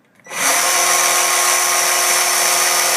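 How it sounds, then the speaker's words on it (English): A Metabo 18 volt cordless jigsaw, model STA 18 LTX, starts up and runs steadily on a table, a loud, even high-pitched buzzing whine that holds after a quick spin-up. "You put them on a table, you run them, it's gonna shake the table."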